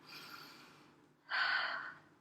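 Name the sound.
voice imitating sniffing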